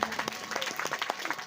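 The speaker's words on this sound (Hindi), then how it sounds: "भैया सत्यम तिवारी के लिए भी एक बार ताली आप लोग" Audience at a religious discourse gathering claps briefly, a short burst of scattered, fairly close hand claps with some voices underneath.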